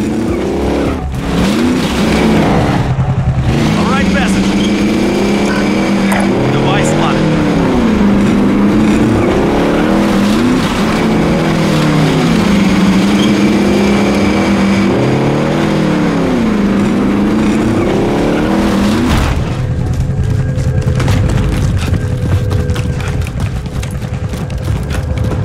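A car is driven in the Call of Duty Warzone video game, its engine droning loudly and repeatedly revving up and down, then settling into a steadier, rougher drone near the end.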